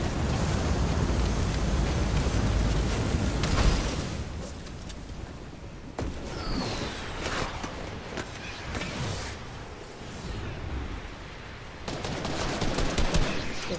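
In a video game, enemy gunfire rains down on a player, loud crackling volleys and bursts of shots over engine-like rumble and noisy battlefield ambience, dense at first, thinning midway, then intensifying again.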